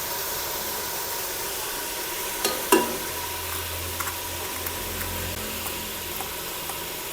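Fried chicken with onion paste cooking in a pan on high heat, a steady close hiss of frying with a couple of brief clinks and stirring knocks.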